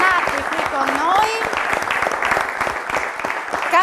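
Audience applause at a Friulian Pro Loco quiz show, with dense clapping mixed with cheers and excited voices calling out throughout.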